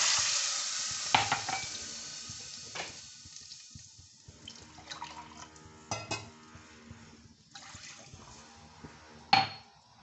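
A loud sizzle bursts up as 1.5 cups of water hit a hot pan before semolina is added, settling into a bubbling hiss with occasional clinks of a utensil; no one speaks.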